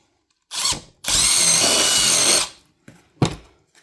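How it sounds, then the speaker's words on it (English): A power drill with a 3/16-inch bit drilling a center hole in a Govee flood light whirs in a short burst, then runs steadily for about a second and a half before stopping, followed by a couple of brief clunks. "So I use 3/16 bit to drill, make the center hole."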